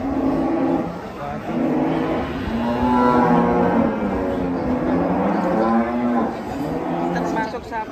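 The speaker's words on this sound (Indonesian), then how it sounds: "Termasuk sapi unik ini" Cattle moo repeatedly in long, loud, drawn-out calls that overlap through the whole stretch, with people talking over them on a farm.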